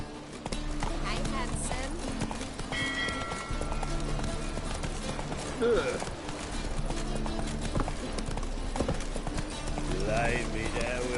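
Hooves of Roach, a horse in a video game, clip-clop in a fast, steady gallop beneath a busy game soundscape, while a voice speaks briefly over it.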